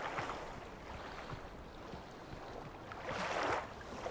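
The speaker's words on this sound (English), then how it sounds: "we hear what sounded like some water pumping" Water pumping after a lever and button are used in Myst (2021), a continuous rushing, churning wash that swells louder near the end.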